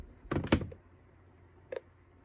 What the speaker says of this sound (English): you can hear the click there. That was the forward disconnect signal.